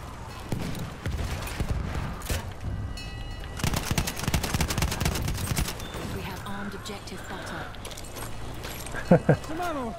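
Enemy machine gun fire in Battlefield 1 rush mode, sharp rapid bursts and scattered shots in a busy battle mix, with people talking throughout.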